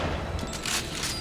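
Gunfire in the sci-fi horror shooter Dead Space 3, a short burst of loud, sharp shots packed into about a second over dense game noise.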